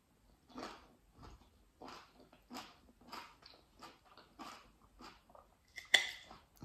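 Crisp, crunchy chewing close to the mic, a steady series of bites in an irregular rhythm, ending with a sharper louder crunch.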